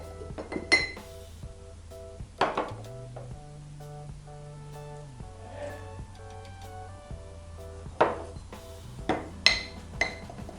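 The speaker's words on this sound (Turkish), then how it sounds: "Karıştırırken hiç kuru un kalmayacak şekilde karıştırıyorum." Whole wheat flour and water being stirred in a jar for a sourdough starter: a spoon clinks and scrapes against the glass in scattered knocks over a steady low background hum, with no talk.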